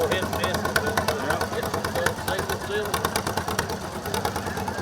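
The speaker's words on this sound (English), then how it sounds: "Sounds like something you can make ice cream with. That hit and miss engine." A small hit-and-miss engine chugs with a steady rapid beat of exhaust pops at a Christmas parade, close and continuous, while people talk over it.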